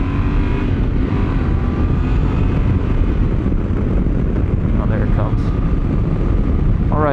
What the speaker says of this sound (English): Alright, so I'm at 40 miles an hour, and there is some buffeting now.